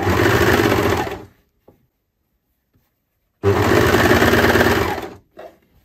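A domestic sewing machine stitches round the hem of a circular skirt in two close, loud, steady whirring runs, the second starting after a pause of about two seconds.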